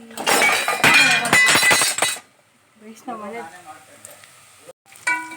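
Ground masala paste for fenugreek rice (menthya bath) frying in a pan, a loud crackling sizzle for about two seconds that then settles into a quiet simmer while someone talks over it.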